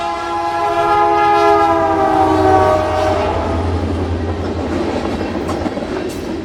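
A Norfolk Southern freight train on the Harrisburg Line blasts its horn close by for a few seconds, followed by heavy rolling rumble and clatter of passing cars.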